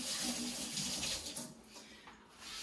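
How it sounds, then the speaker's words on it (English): Hands are rinsed under a running tap in a kitchen, a steady close splashing rush of water that eases off briefly partway through before resuming. "let me rinse my hands, I don't like that feeling"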